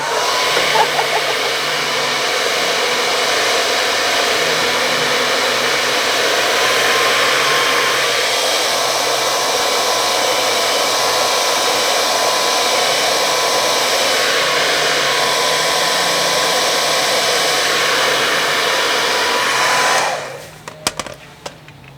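A loud steady blowing roar of a heat gun warming tint film on a Dodge Charger tail light, running unbroken close by for about twenty seconds before switching off abruptly.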